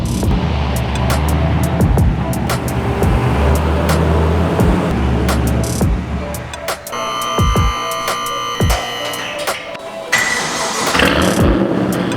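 An LS-swapped BMW E36 M3 with a built LS1 rumbles loudly at close range, its engine note rising and falling as it pulls in, with clicks and whirring mechanical noise toward the end.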